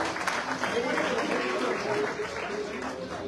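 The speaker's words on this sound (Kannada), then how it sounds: "ಈ ಒಂದು ಕಾರ್ಯಕ್ರಮಕ್ಕೆ ಮತ್ತೊಮ್ಮೆ ಜೋರಾದ ಚಪ್ಪಾಳೆ ಮೂಲಕ ಮತ್ತೊಮ್ಮೆ ಶುರು ಮಾಡೋಣ" Brief burst of audience clapping at a stage function with dignitaries, dense and continuous, with a voice speaking over it.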